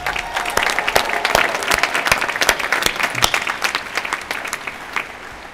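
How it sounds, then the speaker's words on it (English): Loud, sustained applause from a large crowd at a university graduation ceremony outdoors, many hands clapping densely with sharper individual claps standing out near the microphone. "And I hope you'll join me in a round of applause."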